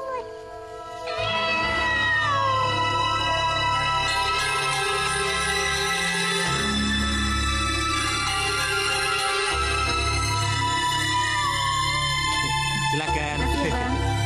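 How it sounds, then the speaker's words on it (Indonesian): A cat meows in drawn-out, wavering cries, loud and close, over a steady low background hum, with overlapping voices and music-like tones woven through. "Ada kucing."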